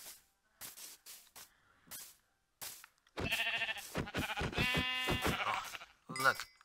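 Sheep bleat repeatedly in a survival video game, a dense run of wavering cries after some brief clicks and thuds, with a short bleat at the end.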